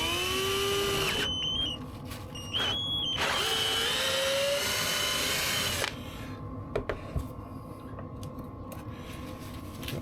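A power drill bores a hole for a KegLand thermowell install, its motor whining steadily in two or three close, fairly loud runs that stop and restart, followed by quiet with a few light clicks.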